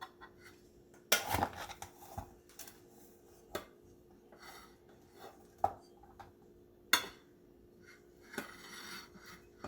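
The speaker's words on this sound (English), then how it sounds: "put it and spread it out on the plate to cool" A spoon scrapes and taps against a plate while spreading sushi rice, giving sparse, irregular clinks and soft scraping strokes at close range in a quiet kitchen.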